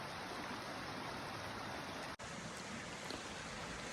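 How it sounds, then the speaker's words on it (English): A small waterfall on a hiking trail gives a steady, even rush of falling water throughout, with one brief dropout midway. "And there's another little waterfall right over there."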